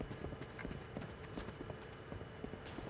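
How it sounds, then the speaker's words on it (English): Faint, quick rhythmic footsteps from a character in a video game patter steadily beneath a dense background of game ambience. "I hear the footsteps."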